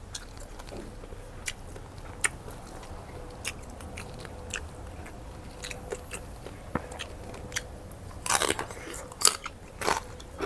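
Crispy fried pork tail gets bitten and chewed close up beside spicy papaya salad, soft crunches scattered through a quiet stretch before a louder cluster of crackly bites near the end.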